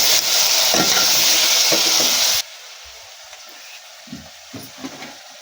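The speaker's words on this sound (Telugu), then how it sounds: "టమాటా వక్కలు వేసుకుంటున్నా." Tomato pieces hit a pan of hot oil with a loud, bright sizzle that cuts off abruptly halfway, followed by quiet stirring clinks.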